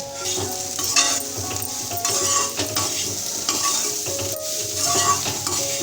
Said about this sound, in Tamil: அதுக்கப்புறம் புரிவி வச்சிருக்கிற தேங்காயை அதில் போட்டு நல்லா கலந்து விட்டுக்கோங்க.